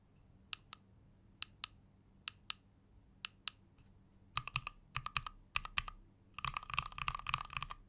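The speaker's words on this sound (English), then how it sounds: "here's a quick sound test before I move on to my final thoughts on this macro pad" Mechanical keys on a DOIO KB03-01K macro pad click and clack, first in sparse single presses, then in quicker clusters and a rapid burst of typing.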